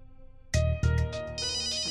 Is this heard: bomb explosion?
no